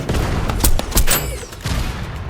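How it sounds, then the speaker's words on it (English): A grenade launcher spams explosive rounds in the arena shooter Tribes 3 Rivals, heard as a rapid cluster of sharp bursts and booms. Whistling projectile streaks run under them, all loud and close, with no voices. "this guy is spamming the crap out of me with that grenade launcher"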